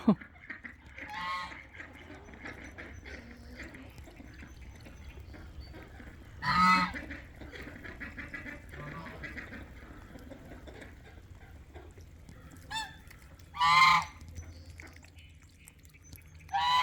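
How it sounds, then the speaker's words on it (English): Geese honk in a few separate loud bursts spaced several seconds apart, over a quiet outdoor background with faint water and distant noise. "And the geese have been going in the goose house."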